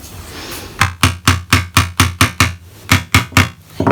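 A small hammer tapping staples flat into canvas, about twelve evenly spaced, close, sharp knocks in a steady rhythm, loud and alone with no talking.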